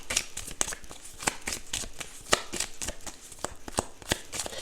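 A deck of tarot cards is handled and shuffled to draw one, giving a quick irregular series of soft crisp card snaps and riffles, close and fairly quiet, with no talking.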